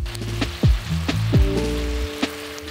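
Pork and mushrooms frying in a pan for a quick ramen, a steady sizzle broken by a few sharp clanks and knocks of a utensil against the pan.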